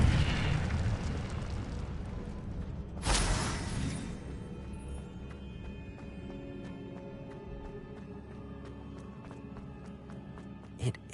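An Incendio fire spell bursts in a Hogwarts video game, a sudden whooshing blast near the start that fades into a long ringing, crackling tail with a small pop at the end, no speech.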